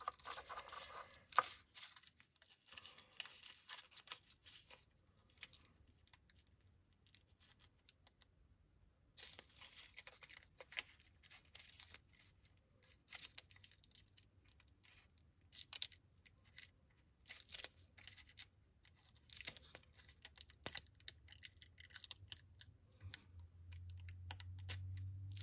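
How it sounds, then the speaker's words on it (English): Cured UV resin shell earrings being peeled from a flexible mould by gloved hands, with scattered soft crinkling, tacky pulls and small scratchy bursts, close by and quiet, no talking. "now it's time to try and peel these off"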